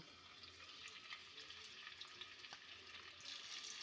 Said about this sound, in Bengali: মাছগুলো খুব বেশি কড়া করে ভাজবো না একটু হালকা করে ভেজে নেব